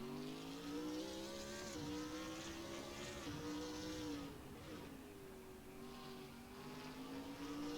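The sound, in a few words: race car engine revving away in Assetto Corsa video game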